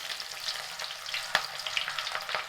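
Mustard seeds, green chillies and onions frying in hot oil for a liver gravy, giving a steady close sizzle and crackle with faint stirring ticks and no talk.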